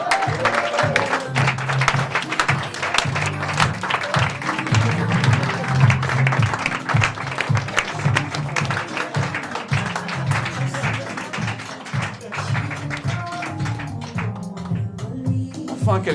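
Sustained audience applause fills a comedy club show in Namur as many hands clap steadily and densely, with occasional cheers mixed in, gradually thinning toward the end.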